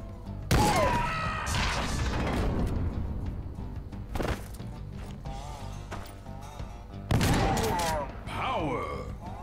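Gunfire in the turn-based strategy game Skyshine's Bedlam, loud bursts of shots and impacts in separate volleys with mechanical clanks and echoing tails between them, under someone talking.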